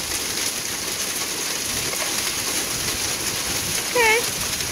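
Hail falls in Portland in a loud, steady hiss and patter of ice on surfaces outdoors, a constant wash with a brief whistle-like tone near the end.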